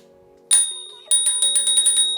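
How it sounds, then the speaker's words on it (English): A small integrated bell on the left brake lever of an Inokim Light 2 scooter rings out clearly: one bright ding, then a quick run of about seven rapid, ringing strikes, close and loud. "So on the left brake lever here, there's a little integrated bell"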